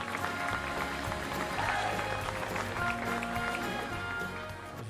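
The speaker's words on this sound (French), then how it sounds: "Sous vos applaudissements, merci." An audience at a 2013 forum claps steadily as a speaker is invited to the stage: a broad, sustained wash of applause from a crowd in a hall, with voices faintly mixed in.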